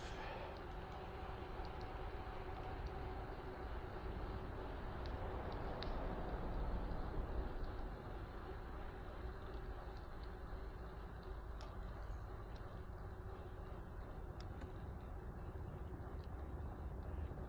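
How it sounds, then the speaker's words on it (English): A steady low rumble of a train rolling past along the Arakawa River fills the whole stretch, continuous and moderately distant, with faint rattling on top. "Another train."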